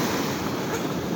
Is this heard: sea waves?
yes